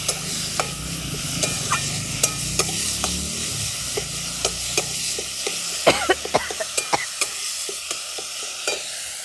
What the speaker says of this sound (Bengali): এই আদা আর লঙ্কাটা ভালো করে ভাজা ভাজা করে নিচ্ছি।